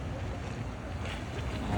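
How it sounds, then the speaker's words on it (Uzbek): Sea waves slosh around a yacht off Bodrum, Turkey, in a brief, close wash of water mixed with low wind rumble. "To'lqin shunaqa zo'r bo'lyapti."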